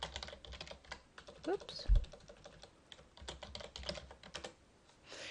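Someone types a username and password on a computer keyboard in a quick, close run of light key clicks with brief pauses, and a voice speaks briefly partway through.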